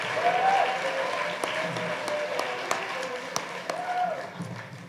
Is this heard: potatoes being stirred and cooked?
no